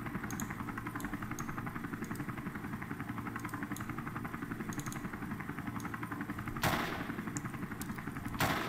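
Rapid gunfire crackles in Call of Duty on the Nintendo DS, a steady rhythmic machine-gun rattle with a few sharper single shots standing out over it.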